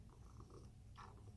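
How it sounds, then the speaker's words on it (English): A low, continuous rumbling purr from a cat, steady and close, with a brief brighter rustle partway through. "I don't know if you guys can hear him purring."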